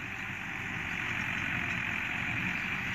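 A Massey Ferguson 375 tractor engine idling nearby: a steady, loud diesel rumble with even low pulsing and no change in pace, no voices.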